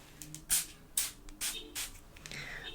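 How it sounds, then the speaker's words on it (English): Water from a spray bottle is misted onto hair during a haircut, heard as four or five short, soft, close hissing bursts at an uneven pace in a quiet room. "I'm gonna spray a little bit more"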